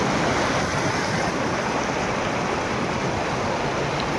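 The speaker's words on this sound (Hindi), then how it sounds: "और पानी का शोर" A stream in Kashmir rushes loudly and continuously, a dense, steady roar of water close by with no pauses and no voices.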